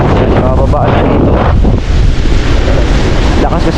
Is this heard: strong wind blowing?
yes